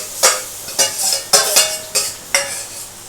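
Paneer korma mixture with capsicum being stirred in a pan, a spoon scraping in five or six distinct strokes with a light, close sizzle of oily sauce between them.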